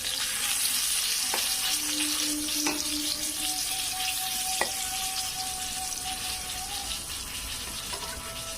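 Eggplant pieces fry in hot oil in a pan seasoned with salt and turmeric, giving a steady, close sizzle throughout with a few brief clinks as the slices are turned.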